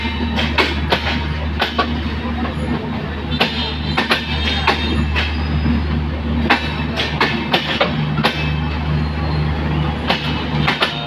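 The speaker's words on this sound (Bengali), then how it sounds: "একতা এক্সপ্রেস সান্তাহার জংশন ছেড়ে গেল।" The Ekota Express pulling out of Santahar junction, a close rumbling train with rhythmic clickety-clack of wheels over rail joints and steady low engine drone, with faint voices nearby.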